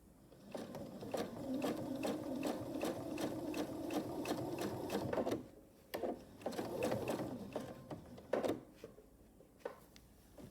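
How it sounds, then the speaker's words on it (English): A sewing machine quilts a braided table runner with a quick, steady run of rhythmic stitching, then pauses and stitches again in shorter bursts, fairly quiet and close. "I will stitch in the ditch down here, and I will continue quilting this direction"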